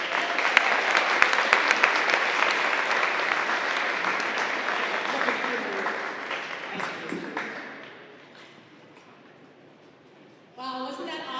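Applause from a high school audience in a large hall, dense and sustained, gradually thinning out near the end before a voice cuts in.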